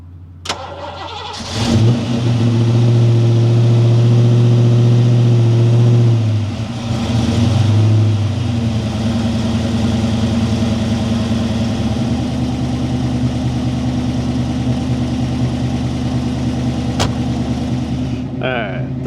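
A Foxbody Ford Mustang engine fires up and settles into a steady, loud idle while warming up, with a brief rev early on and a continuous rumbling drone for the rest of the time; no talking.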